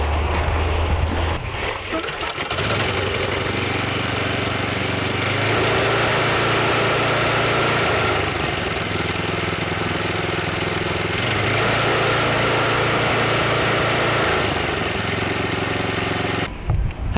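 A small tiller engine runs steadily close by, a loud continuous drone that rises and falls slightly as it is revved, with no voices over it.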